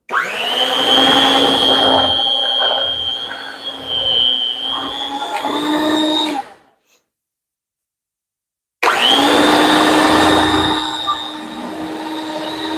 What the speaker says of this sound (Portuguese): eu vou utilizar, gente, a batedeira. Vou utilizar essa de mão.